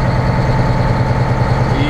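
A truck engine idles in bitter cold at a Mississauga, Ontario stop, a loud, steady low rumble with a regular pulsing throb throughout.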